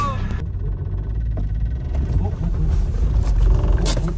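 A Chevrolet car drives through muddy fields with a low engine rumble. Clicks and rattles sit over the rumble, and the engine rises slightly toward the end, close by.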